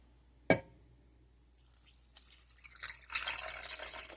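A sharp clunk, then after a pause about two cups of water splash and pour steadily into a slow cooker, growing louder.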